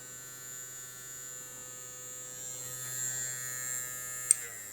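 A small battery-powered fishing hook sharpener runs with a steady, faint electric whir and hum, ending with a brief click.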